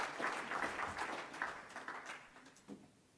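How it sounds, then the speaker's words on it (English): Audience applause for Stephen at a hydrogen economy science diplomacy event, a moderate wash of clapping that fades toward the end. "A round of applause for Stephen, please."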